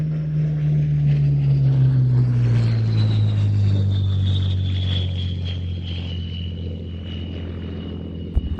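A propeller aircraft flies past at the Old Buckenham Airshow 2022. Its loud engine drone and propeller hum slide downward in pitch as it passes and gradually recedes, with no voices over it.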